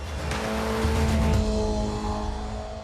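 A Ferrari California T roars loudly and steadily nearby, its engine note holding a strong tone with a hint of tire noise, heard alone without talk.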